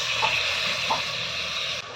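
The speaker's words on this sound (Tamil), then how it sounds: "இஞ்சி பூண்டு தட்டி வச்ச தண்ணி இருக்குது அதை ஊற்றிக்கலாம்" Ginger-garlic water being poured into a pan of duck curry masala with chilli and coriander powders, giving a steady liquid gush and splash at close range with a couple of brief clinks, no talking.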